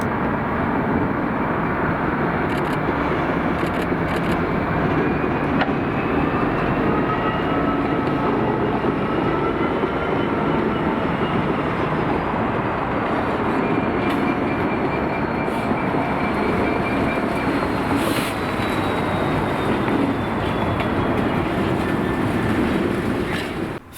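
Freight locomotive 66503 rumbles steadily as it draws a train into the terminal at Grangemouth Docks in Scotland, a continuous heavy drone of engine and rolling wagons with faint metallic squeals, sustained and close throughout.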